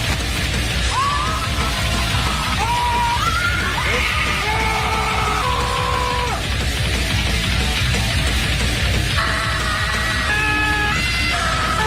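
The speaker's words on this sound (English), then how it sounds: "The louder you scream, the larger the beer comes out of this machine right here" A person screams into a beer-dispensing machine at a live event, producing long, wavering, strained yells at varying pitch over a dense, noisy background, with other voices mixed in.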